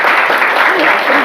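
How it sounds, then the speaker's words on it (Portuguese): Audience applause at a talk in Brazil: a brief, loud, dense burst of clapping from a crowd. "Pode aplaudir."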